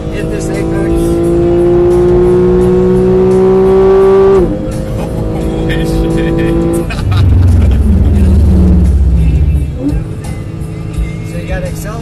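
A car at full throttle on the Apex Motor Club race track, the engine roaring loud and close with rising pitch, dropping briefly at a shift, then surging again. A driver talks over the noise.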